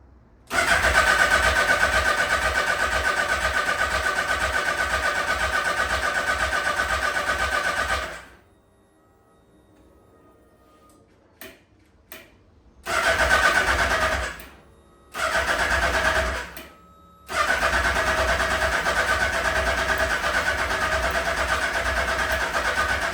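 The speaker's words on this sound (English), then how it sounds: "So now I can just plumb it back in and see if the motor starts." A Suzuki Hayabusa motorcycle engine fires up after a rebuild and runs loud and steady for several seconds, then cuts out. It then catches again in a few short bursts before settling into a continuous run, with no talking.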